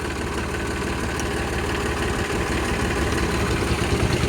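A Mahindra 275 tractor engine idles nearby with a steady, loud low rumble and rapid rhythmic knocking pulses that stay even throughout.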